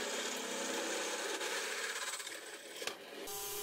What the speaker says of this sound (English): Here we're drilling holes for the M12 bolts that will support the tilting platform.